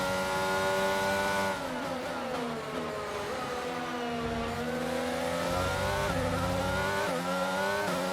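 F1 car engine in the F1 22 video game at Imola, a loud high-pitched whining race engine that rises and falls through gear changes and braking for turns, continuous and close, no voices.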